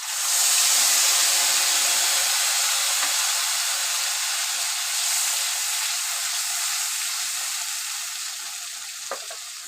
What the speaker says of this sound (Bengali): এখানে আমি সর্ষে আর পোস্ত কাঁচা লঙ্কা বেটে নিয়েছি এক চামচ হলুদ দিয়েছি এবার আমি তেলের মধ্যে দিয়ে দেবো